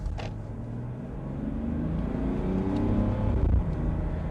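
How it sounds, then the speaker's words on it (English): A 2022 Mercedes GLE SUV engine at low speed, heard from the cabin as a low, steady rumbling hum that swells slightly toward the end, muffled and even, with no voices. "you just can hear the engine in lower speeds"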